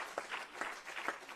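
A church congregation applauds, with a steady patter of hand claps at moderate distance, fairly quiet and continuous through the brief moment.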